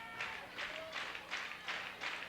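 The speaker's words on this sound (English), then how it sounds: "the rhythmic clapping starts here from the Combs Field in Austin" Crowd at a Texas A&M vs. Texas Longhorns college softball game at Combs Field in Austin claps in a steady rhythm, six even bursts roughly every 0.4 seconds, distant and faint, blended with light crowd murmur.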